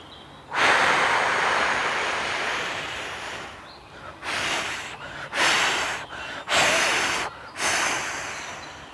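A person blows out breath forcefully during a breathing exercise: one long, loud, close exhalation followed by four shorter rushing puffs with brief pauses, no talking.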